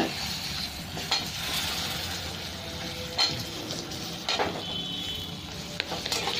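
Onions and garlic fry over lowered gas in a pan, a steady close sizzle broken by several sharp scrapes and clinks of a spoon stirring against the metal, without talk.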